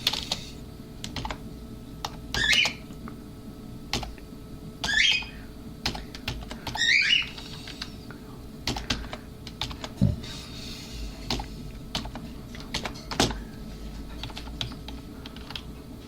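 Rapid keyboard clicking in irregular bursts, close and clear, with a few brief squeaky sounds scattered between the keystrokes.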